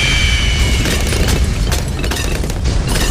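Laser bombs going off in Bloons TD 6, a loud dense barrage of overlapping booms and bursts that runs without a break.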